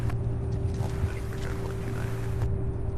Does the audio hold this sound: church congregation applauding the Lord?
no